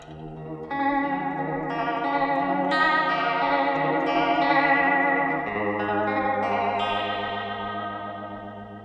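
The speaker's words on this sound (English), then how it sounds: "so you just get a nice vibrato sound" Sustained electric guitar chords drenched in a mild warbling vibrato from a Belle Epoch pedal, swelling and shifting, loud and continuous with no speech.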